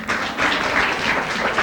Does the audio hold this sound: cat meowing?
no